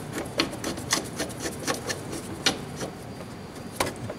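A screw is tightened into a scooter part by hand, giving repeated short rasping turns and clicks at close range, steady and fairly quiet.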